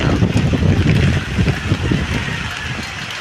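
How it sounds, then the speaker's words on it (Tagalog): Loud, steady typhoon wind roars and buffets the microphone in continuous gusts amid heavy rain, with a rushing, turbulent low rumble throughout. "Nakakatakot po ang hangin"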